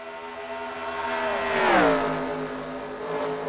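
A stock car in the NR2K3 racing game roars past at Las Vegas, its engine tone climbing then sweeping down in a quick pass-by, with a steady engine drone around it.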